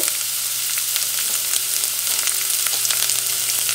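Green chillies frying in hot oil in a pan while making heerekayi saaru, a steady close sizzle with faint crackles and no voices.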